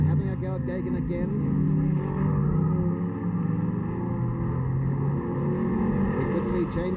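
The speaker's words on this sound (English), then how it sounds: "Now the 2 big Mustangs are on lap 4, and here's a great go between them." Two big Ford Mustang touring cars race at Warwick Farm circuit, their engines droning loud and sustained beneath continuous commentary.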